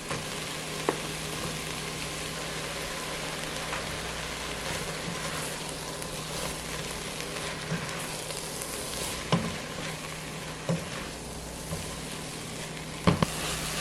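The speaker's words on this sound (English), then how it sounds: "we're going to add in our mushrooms" Sliced mushrooms and onions cook down in an oil-free pan with a continuous soft, even sizzle, dotted with occasional light clicks and taps; no voices.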